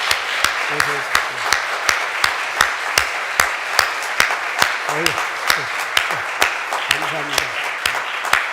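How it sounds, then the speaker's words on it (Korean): A church congregation at a Korean Sunday service claps to welcome visiting members, sharp claps landing in an even, steady rhythm while a voice speaks now and then underneath. "우리 열렬히 박수로 환영하겠습니다."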